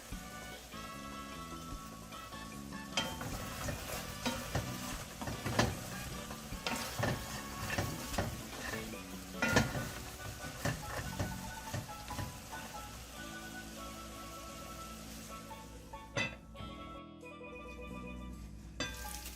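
Oxtail browns in a pot with a busy, crackling sizzle that runs throughout, punctuated by stirring scrapes and spits; near and moderately loud, with no talking.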